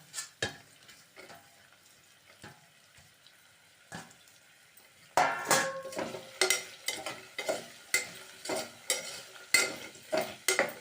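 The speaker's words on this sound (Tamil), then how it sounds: "எல்லாத்தையும் ஒன்றா சேர்த்து வதக்கிக்கலாம்" Mixed vegetables for pulao hiss and sizzle in a hot pan while a spoon scrapes and stirs in repeated strokes, louder and busier in the second half.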